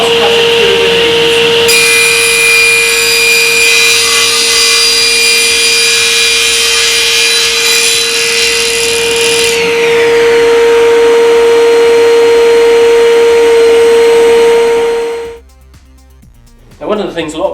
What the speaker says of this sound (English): We can start the saw, switch on the extraction because we're using MDF, and cross-cut it through with ease.